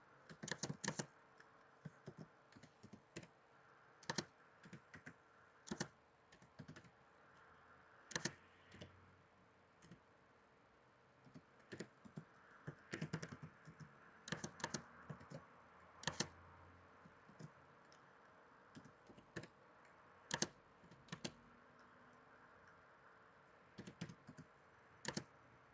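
Computer keyboard typing in slow, irregular bursts of distinct key clicks with pauses between, close and clear over a quiet room hum, no voices.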